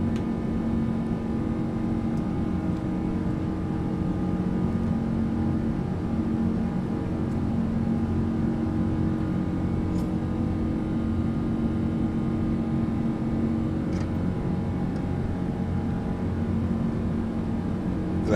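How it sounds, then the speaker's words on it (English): Rolls-Royce Trent engine on a PMDG 777-200ER at cruise, a steady, unbroken low roar and hum that holds evenly throughout with no voices. "The beautiful Rolls-Royce Trent engine screaming away out there."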